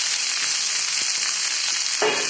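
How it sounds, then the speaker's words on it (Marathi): Fenugreek leaf masala curry sizzles steadily in a hot pan as it is stirred, with soft scraping and one brief louder scrape near the end, all without talk. "भाजी हलवून घ्यायची म्हणजे भाजीचा कलर चांगला राहतो"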